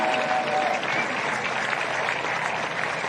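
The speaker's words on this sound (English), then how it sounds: "Big round of applause to you." A large crowd claps steadily at a military women's world football championship ceremony, a thick, continuous roar of applause with no break across three seconds.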